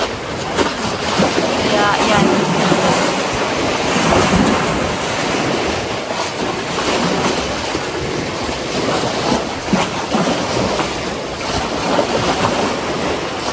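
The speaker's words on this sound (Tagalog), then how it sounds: "Ang sarap ng tunog ng dagat." Sea waves washing onto a beach in the Philippines, a loud, continuous roar of surf with gusting wind buffeting the microphone, while someone speaks briefly over it.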